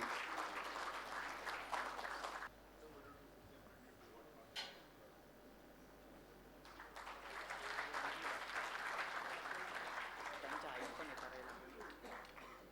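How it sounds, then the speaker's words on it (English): Audience applause at a sustainability panel discussion in Pune: a loud, dense burst of clapping that stops abruptly, a quieter stretch of room tone, then a second sustained round of applause to the end. "Please give a big round of applause for Ellen."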